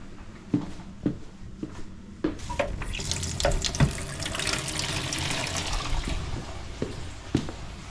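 Water runs from a tap after the supply is turned back on during a plumbing job, beginning as sputtering bursts and settling into a steady gushing flow with a few knocks.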